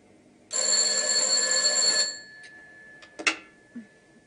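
A telephone bell rings in one loud, bright burst of about a second and a half, followed by clicks and a faint clatter as the handset is picked up, in a dramatic TV scene.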